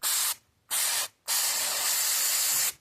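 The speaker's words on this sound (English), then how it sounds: "So I just spray it." Three bursts of aerosol cleaner spray hiss onto an AFX Tomy Turbo slot car, two short ones followed by a longer sustained blast, close and loud with no talking.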